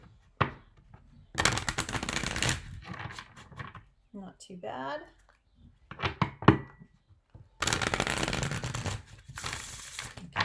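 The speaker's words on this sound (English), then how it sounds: "So let's see how riffle shuffles." Dense bursts of riffle shuffling a tarot card deck, two long crisp flurries with some handling noise between, and a voice speaking briefly in the middle.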